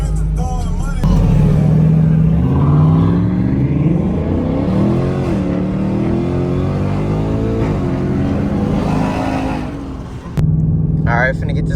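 Car doing a hard acceleration pull before getting headers: loud engine rising and sweeping up through the revs, with a shift-like drop near the end and then revving again, while a person talks over it.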